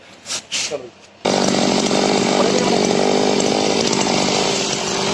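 A small two-stroke brush cutter engine roars at full throttle, loud and steady after a brief stretch of quieter idling and faint voices.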